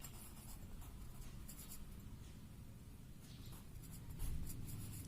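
Pen or pencil writing out an English answer by hand, a soft continuous scratchy scraping that runs steadily and close up for several seconds, with no voices.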